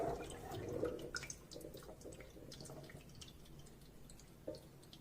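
Liquid from a can of chickpeas (aquafaba) drains through a strainer into a bowl underneath, a faint, close stream with a pouring rush at first, then quiet irregular drips trickling down.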